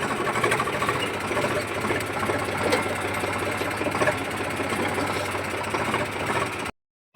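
A tractor engine runs steadily while pulling a cultivator through a field, a close, continuous rhythmic drone with a knocking pulse and no talking.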